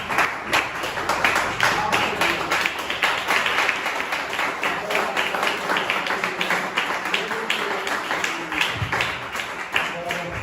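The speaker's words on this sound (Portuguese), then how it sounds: "dá uma linda salva de palmas para o Senhor Jesus." Congregation applauding at a Brazilian church campaign service, steady dense clapping lasting throughout with voices and talk mixed in underneath.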